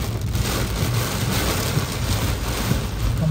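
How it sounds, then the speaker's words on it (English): Steady, dense hiss of heavy rain pouring down in Detroit without letup, close and fairly loud, with a low rumble underneath and no voices. "It is pouring rain."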